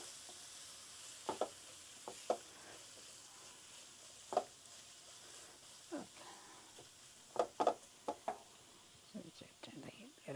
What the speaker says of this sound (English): So then we'll saute.